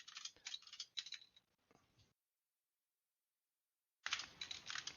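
Fast clattering keystrokes on a computer keyboard while writing Arduino code for an ultrasonic distance sensor, close and dry, in bursts for about two seconds, then silence, then a renewed dense run of typing.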